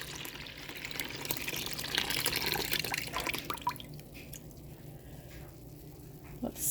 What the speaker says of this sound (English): I got some cold water I'll pour in and kind of just dilute it down to a color that I like.